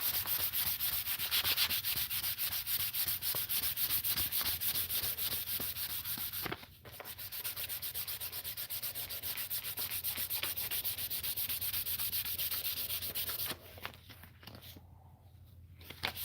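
Steady sanding of a custom brush guard on a Volvo XC70 with 1000-grit sandpaper, a continuous close hiss of rubbing strokes that breaks off briefly near the middle and again toward the end.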